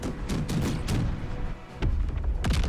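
Explosions from a Baldur's Gate 3 battle: several loud booming blasts with broad, dense low rumble, one cluster early and two more heavy bursts near the end, with no talk over them.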